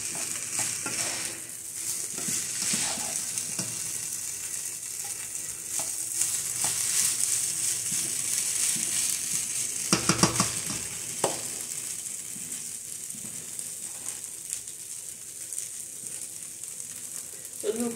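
Pieces of pork tenderloin fry quietly in a pan, giving a soft steady sizzle broken by occasional scraping and stirring clatter.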